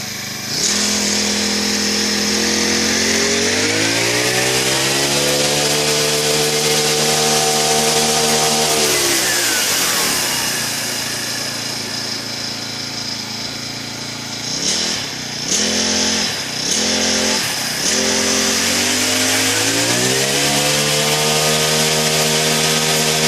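A Kretek UDT four-stroke brush cutter engine runs loud and close, holding a steady buzzing drone, dipping to idle midway, then revving in several sharp bursts before settling back to a high whine.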